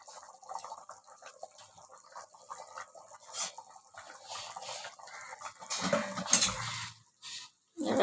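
Chicken and potatoes boil in a pot of water, with soft bubbling, popping and dripping at a low level and some faint clatter and handling noise near the end, heard close.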